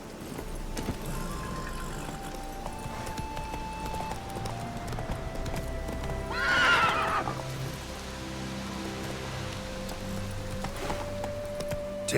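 Hooves clop steadily throughout in The Witcher 3: Wild Hunt, joined midway by a loud whinnying horse neigh, set over a continuous ambient backdrop.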